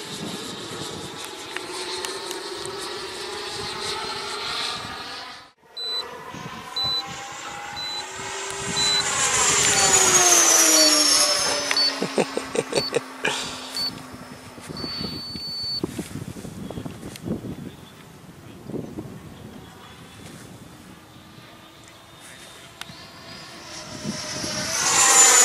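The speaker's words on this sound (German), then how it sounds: "Das ist ein zügiges Flugzeug." Saab 105 jet aircraft passing overhead, a long roaring jet whine swelling to a loud peak with a falling pitch sweep, then fading and building again, with no talk.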